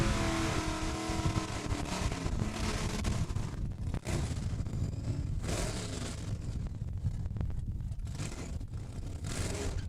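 Drag racing cars, including a Camaro, accelerate hard down the strip at Saskatchewan International Raceway on a testing day, a loud sustained engine roar rising and swelling with a brief dip midway.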